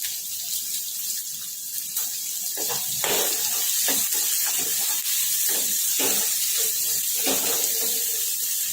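Long-sliced chillies and sliced onion with salt sauté in a pan, giving a steady loud sizzle and hiss with occasional stirring scrapes throughout and no talk.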